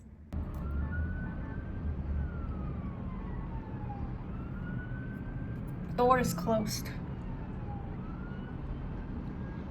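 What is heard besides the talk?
city traffic heard from 40th floor apartment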